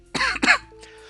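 Two sharp, close coughs in quick succession, followed by a brief quiet tail.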